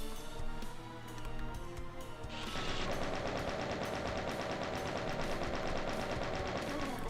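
Rapid automatic gunfire from a video game, starting after about two seconds of other game noise and then rattling on steadily and loudly to the end with no speech.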